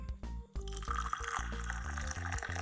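Hot water is poured over Jin Jun Mei Chinese black tea in a teapot for a third steeping, a steady close liquid trickle and splash that runs continuously with small shifts in pitch as the vessel fills.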